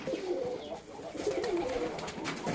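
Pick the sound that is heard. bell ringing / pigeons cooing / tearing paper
pigeons cooing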